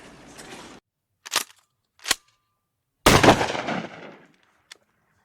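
Gunfire sound effect: two short, sharp single shots, then a long rattling burst of automatic fire that trails off, and a final faint click, all separated by silence.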